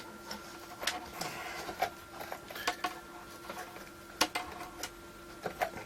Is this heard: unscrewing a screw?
yes